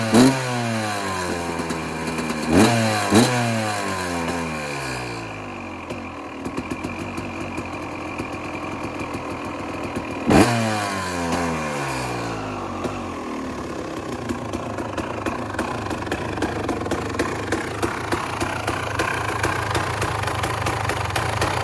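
A small single-cylinder carbureted KTM dirt bike engine idles with a steady, slightly uneven putter, with a couple of brief revs early on before settling into a rough idle.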